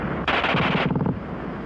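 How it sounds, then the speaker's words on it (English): A German World War II machine gun fires one rapid, continuous burst of closely spaced shots, loud and close, for under a second. Its echo trails off afterward. "the German gun fires faster than anything you've run into before"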